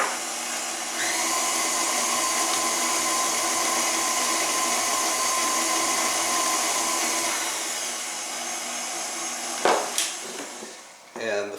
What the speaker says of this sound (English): now I'm going to beat in 1½ teaspoons of pure vanilla extract